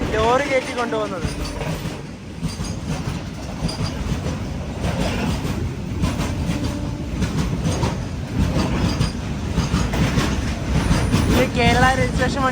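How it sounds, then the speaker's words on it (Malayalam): A Ro-Ro train hauling lorries, some with Kerala registration, rolls past after heavy rain, a steady loud rumble of wagons with clattering wheels and occasional squeals throughout, with voices talking over it. "ട്രെയിനിൽ ലോറി കയറ്റി കൊണ്ടുപോകുന്നത്."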